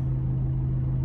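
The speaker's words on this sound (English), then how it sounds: "I'm gonna release my clutch a little bit, and when the car feels like moving forward, I'm just gonna step on the accelerator slowly" Ford Aspire car engine pulling forward uphill on a hill road as the clutch is released, a steady close low drone with a strong constant hum and no talk.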